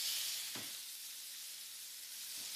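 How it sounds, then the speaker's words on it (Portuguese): Pear halves sizzling on a hot grill for a salad, a steady close hiss of frying with a couple of soft clicks or taps, no talk. "Assim que a grelha reagir, calor, começamos a grelhar a pera."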